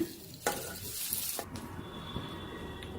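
Stuffed bitter gourd fries in oil in a pan, giving off a short, moderate sizzle. A couple of sharp clinks or scrapes rise above the steady hiss.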